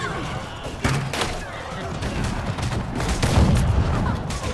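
Cannons boom during a large siege battle in the game Conqueror's Blade, several heavy shots cutting through a dense wash of battle noise beneath constant talk.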